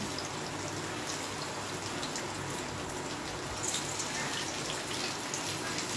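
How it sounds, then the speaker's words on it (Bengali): Chicken tikka frying on a medium to high flame, a faint, even crackling hiss with light popping spatters throughout, no talking. "বন্ধুরা এটাকে আমি মিডিয়াম টু হাই ফ্লেমে একটু ভেজে ভেজে নেব"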